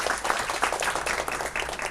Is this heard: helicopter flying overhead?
no